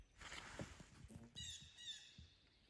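Several birds squawk and call beside the Au Sable River in Michigan, a burst of harsh cries followed by thinner chirping notes, fairly close and moderately loud over quiet water.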